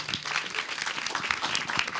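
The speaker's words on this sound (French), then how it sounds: "On peut les applaudir très fort." A festival audience applauds steadily at a film pitch presentation, dense continuous clapping filling the room without a break.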